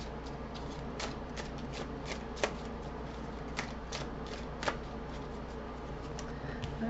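A deck of cards being shuffled, with quick riffling flutters and crisp snaps repeating at close range over a steady low background hum, and no voice.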